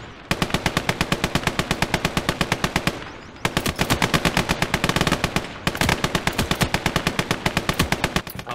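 Heavy gun fire in the Call to Arms: Gates of Hell World War II game, rapid rhythmic bursts of loud close shots in three long strings separated by brief pauses.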